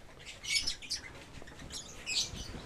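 Lovebirds and their young chicks in a cage give bursts of high, thin chirps and twitters with brief gaps between them, close by but fairly soft, with no talk.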